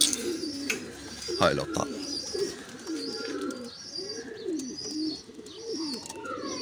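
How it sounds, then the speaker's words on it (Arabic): Pigeons in a loft coo in repeated low, rolling calls while someone talks over them and a brief rustle sounds nearby. "حمام شبعان وطاقات طق"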